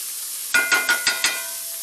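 A steak sizzles loudly in a hot pan just after being flipped, with a steady close hiss broken by five quick, evenly spaced crackling bursts.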